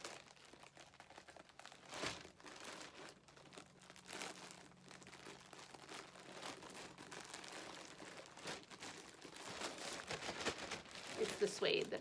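Plastic bag crinkling and rustling in irregular bursts up close, with soft handling noises throughout.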